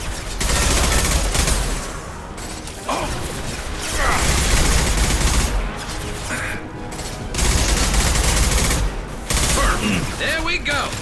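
Impact Shot gunfire in Mass Effect 2 rattles out in loud repeated bursts of shots and crashes, separated by brief pauses, close and dense within a noisy combat scene.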